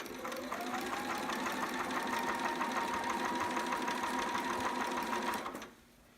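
Sewing machine stitching a romper seam along a curve, a steady close mechanical hum with rapid needle clatter running for over five seconds before stopping abruptly, leaving quiet room tone.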